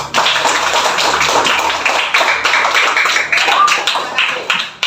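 Schoolchildren in a classroom clap their hands together in a brisk, dense burst of applause that fills the room for several seconds, close and loud.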